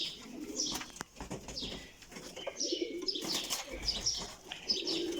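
A flock of kept pigeons coos in soft overlapping calls while wings flap in short bursts and a few higher chirps cut through, all close by with no talking.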